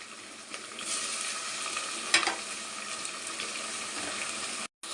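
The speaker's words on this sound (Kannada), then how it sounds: "ಫ್ರೆಂಡ್ ಇವಾಗ ಎಲ್ಲ ಟೊಮೊಟೊ ಹಾಕಿದ್ದೀನಿ" Tomatoes and green chillies frying for a mushroom biryani, a dense, bright sizzle running steadily close up with one sharp clatter midway, cutting off abruptly near the end.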